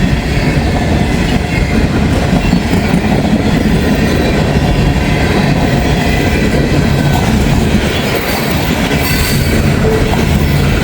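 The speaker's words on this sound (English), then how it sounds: "Hot diggity dang, we got a good train here." Freight train rolling past on rails in the rain, a loud continuous rumble with wheel clatter and faint squeals throughout, heard up close with no voices.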